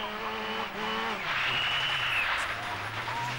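A two-wheel-drive rally car's engine roars past and fades with a brief rushing splash through a water splash at the 1989 RAC Rally, Chatsworth House stage, while a commentator talks over it.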